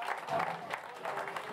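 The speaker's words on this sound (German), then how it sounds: "ihr dürft ruhig auch mal einen großen Applaus loslassen für unsere US-Cars" Crowd applause at an American football game in the Regionalliga Südwest, Biberach Beavers vs. Fellbach Warriors, greeting the US cars, a moderate, somewhat distant patter of clapping mixed with an announcer's voice over the PA.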